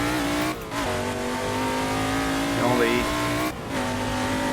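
A McLaren Can-Am race car with a big-block engine, driven in Assetto Corsa at Bridgehampton, holds a loud, steady, harmonic-rich roar with brief dips and rises as the throttle changes, while someone talks over it.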